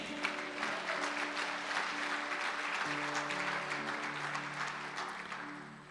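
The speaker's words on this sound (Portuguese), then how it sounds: "Aplauda, Senhor." A church congregation at an evening service applauds steadily for about six seconds. Dense clapping rings out over sustained keyboard chords.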